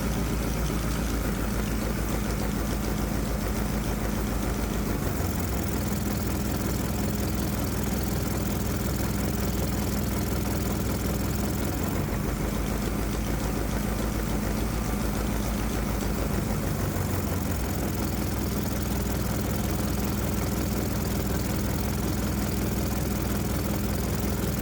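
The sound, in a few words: Predator 212 engine running on Arduino-controlled fuel injection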